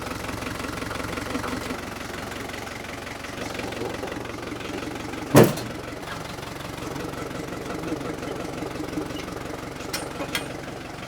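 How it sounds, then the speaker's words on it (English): A tractor engine idles steadily while warming up, a continuous close mid-low rumble with a faint knocking texture and one brief sharp knock partway through, no voices. "we're gonna let the tractor warm up for a few minutes"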